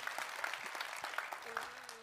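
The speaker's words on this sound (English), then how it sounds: "Give Caleb a round of applause for being here." An audience applauding a guest named Caleb at a talk, a dense wash of clapping hands at moderate distance, fairly faint and steady, with a few brief voices mixed in.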